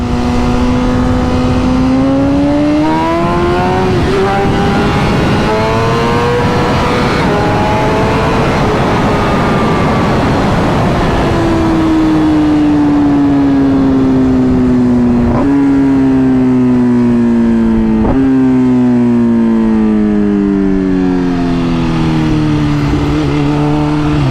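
An Audi RSQ8 and a BMW S1000RR accelerate hard, their engines and exhausts roaring loud and close in long rising revving sweeps broken by gear changes, with no talk over the sound.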